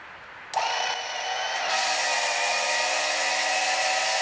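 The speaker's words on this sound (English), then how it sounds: "just turn on the pump and let it spin" A small battery-powered pump switches on and spins while pumping gear oil, starting with a sharp click and then settling into a steady high whine that holds fairly close and constant.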